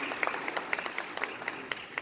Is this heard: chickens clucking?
no